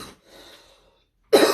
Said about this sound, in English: I'm coughing and I can't stop coughing